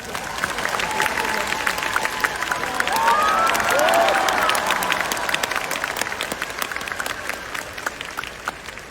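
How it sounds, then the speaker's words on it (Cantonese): A concert audience applauds steadily for several seconds, a dense wash of clapping that swells in the middle with a few cheers and whistles rising above it. "真係要衷心俾啲掌聲啊！"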